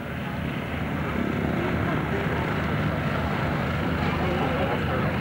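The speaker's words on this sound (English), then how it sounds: "this is Jerry's first season as the Tornado F3 display pilot" Steady broadband roar of a Tornado F3 jet flying at the 1993 Newtownards air show, continuous and fairly loud without break, with a commentator speaking over it.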